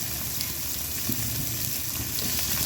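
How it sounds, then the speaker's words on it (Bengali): Onions sizzling and frying in hot oil in a wok, a steady close crackle running the whole time with no talk. "কড়াইতে আর একটু তেল দিয়ে দিলাম আলুটা আমি ভেজে তুলেছি এখন একটু পেঁয়াজগুলো দিয়ে দিচ্ছি"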